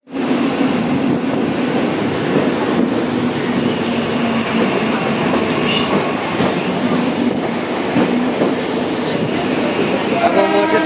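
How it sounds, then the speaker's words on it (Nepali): Mumbai local train pulling out of Churchgate station on a rainy day, a loud, steady rumble of rail cars with rattling and clatter close by, continuous throughout, with faint voices mixed into the din. "अहिले चाहिँ चर्च गेट स्टेसनबाट लोकल छोड्यो है।"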